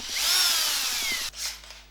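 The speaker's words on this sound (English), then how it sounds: "You don't have to drill in very far with the middle bit" Power drill boring into a KTM 1290 Adventure SC Project motorcycle muffler, a close whining spin that rises in pitch and holds, then stops abruptly, followed by a brief quieter whir.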